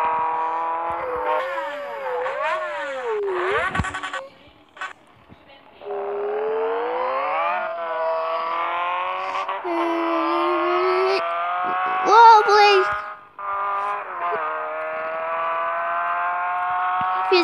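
A Yamaha XJ6 motorcycle accelerates hard along a street, its engine note rising and falling through gear changes, with brief dips and a loud surge, close to the rider.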